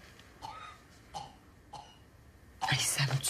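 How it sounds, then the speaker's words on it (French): Three short, soft coughs spaced about a second apart, followed by a louder burst of coughing and throat clearing up close, in a TV comedy episode. "ça me tue de l'entendre tousser comme ça"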